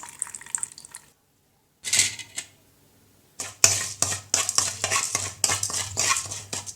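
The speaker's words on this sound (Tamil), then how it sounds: "அதில் நம்ம புளிஞ்சு வச்சுருக்க லெமனை ஊற்றலாம்" Squeezed lemon juice is poured into hot oil seasoned with salt in a pan for lemon idiyappam. Short bursts of splashing and spattering alternate with quiet gaps, close and clear.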